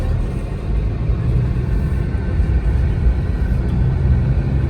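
Steady, dense road rumble from a line of cars jammed on the narrow Rishikesh bypass, a continuous low engine drone with no distinct passes, close and fairly loud throughout.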